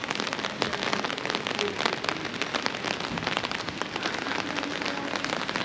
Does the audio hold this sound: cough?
no